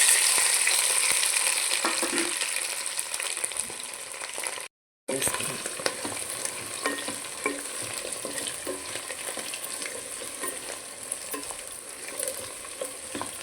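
Boiled potato pieces sizzle steadily in hot oil at close range, with frequent scraping stirs and a brief cut to silence partway through.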